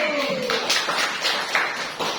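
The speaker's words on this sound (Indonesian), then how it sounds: "Tepuk tangan." A group claps hands for a school principal during a classroom presentation, a quick burst of sharp, fairly loud claps in an uneven rhythm, with a few distinct slaps standing out near the end.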